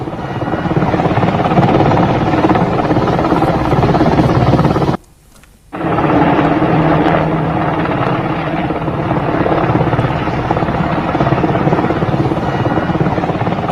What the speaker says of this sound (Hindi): वीडियो में दिख रहा helicopter American made Black Hawk है